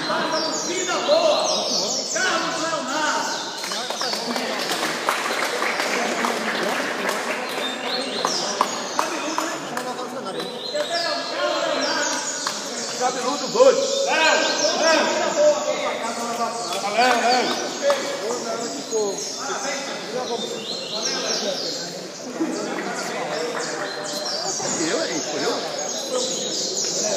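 Canaries chirp and trill at a songbird tournament in Recife, the birdsong running faintly beneath nearly constant talk from people at the event.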